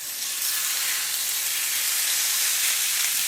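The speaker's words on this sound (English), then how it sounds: "Now you're going to add in your pound of sliced steak." Sliced steak, about a pound, sizzles steadily in a skillet, a loud continuous bright hiss of frying meat with no talk.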